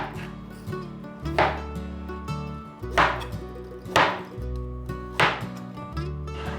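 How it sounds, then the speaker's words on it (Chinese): A knife chops a peeled luffa gourd into roll-cut chunks on a cutting board, making several distinct knife strikes at a steady, unhurried pace over a quiet background of light music. "把丝瓜对半切， 切成滚刀块"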